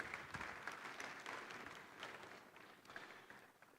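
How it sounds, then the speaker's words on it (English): Conference audience at a formal annual banking meeting gives a faint, distant round of applause for a former Ethiopian prime minister being welcomed on stage, soft steady clapping fading slightly toward the end. "A round of applause, please."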